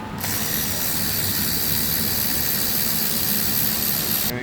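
Ratchet wrench taking wheel bolts out, a loud continuous rapid clicking buzz close by, running steadily without pause.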